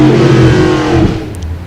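A hot rod engine drones loud and close at the starting line of the IHRA Hot Rod Classic at Darlington Dragway, a heavy steady tone that sags slightly in pitch and level.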